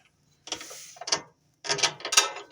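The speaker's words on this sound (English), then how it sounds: "Now, we gotta get this bolt out here." A ratchet wrench loosens an axle pivot bolt on a Ford E-Series van, two bursts of rapid clicking ratchet strokes separated by a short pause, close and crisp with no talk.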